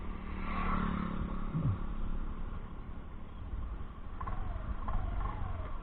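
A Honda Dio BS6 scooter at full throttle during a top speed test: a steady, droning engine note held throughout, close and continuous with rushing wind noise, with no talking.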